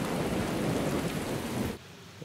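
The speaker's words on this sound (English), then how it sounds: "Now it's raining for our walking tour." Heavy rain pours down with a dense hiss and low rumble, then abruptly drops away near the end.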